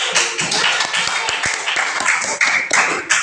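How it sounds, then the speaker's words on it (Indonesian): Classroom clapping in an Islamic lesson, a short burst of hands over a steady hum of voices, moderately loud and close, with scattered sharp taps standing out. "Kasih tepuk tangan."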